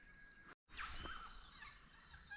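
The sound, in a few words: king parrot call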